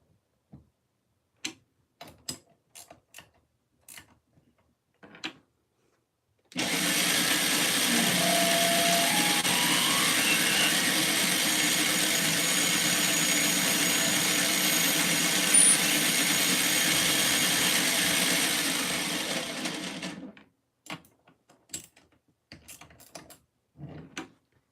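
A drill bit bores into brass in a machine shop, giving a steady, loud, continuous whir for about fourteen seconds, with light ticks and clicks from handling before and after.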